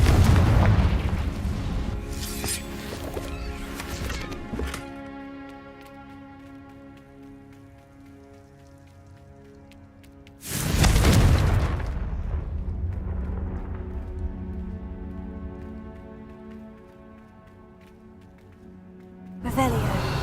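Confringo blast spells explode in Hogwarts Legacy: three loud booming bursts spaced several seconds apart, each fading into a ringing, shimmering tail.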